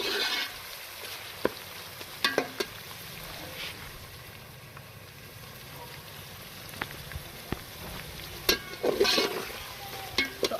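Garlic, ginger and green chili paste frying in a pan for Pakistani-style chicken pulao, a steady low sizzle with occasional sharp clicks and scrapes of a spoon stirring through it.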